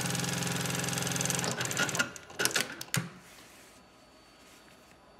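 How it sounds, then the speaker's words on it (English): A Juki LU2828V-7 digital walking foot industrial sewing machine stitches in a fast, steady mechanical chatter for about a second and a half, then stops, followed by a few sharp clicks and then quiet. "I can take the machine out of standby mode and I can continue sewing."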